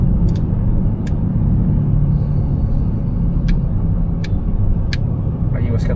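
Busy street traffic in the Philippines, full of motorcycles, forms a loud, continuous roar of engines close by, with occasional sharp clicks and voices talking over it.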